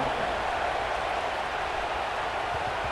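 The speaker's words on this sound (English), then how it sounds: "this crowd is buzzing after that last score" Stadium crowd in EA Sports College Football 26 keeps up a steady, dense roaring buzz, loud and continuous without a break.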